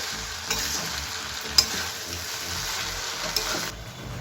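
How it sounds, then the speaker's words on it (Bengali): Cracked wheat pulao with sugar stirred in fries over a high flame, a steady broadband sizzle punctuated by a few faint scraping clicks of stirring, close and continuous with no voices. "চিনিটা দিয়ে আমি খুব ভালো করে মিক্স করে আরেকটু ভাজা ভাজা করে নেব হাই ফ্লেমে"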